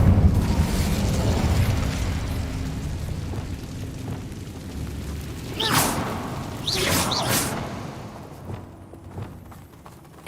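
An Incendio fire spell blast in a video game: a loud, roaring whoosh of flame at the start that slowly fades, then two sharp bursting whooshes near the middle. No speech is heard.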